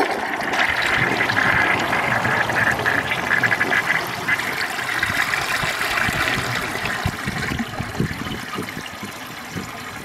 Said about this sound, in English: so for the final flush, I'll just do the rag and these two balls